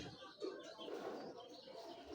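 Pigeons coo faintly in a quiet space, with low, soft murmuring calls and a brief chirp, distant and understated, with no voices over them.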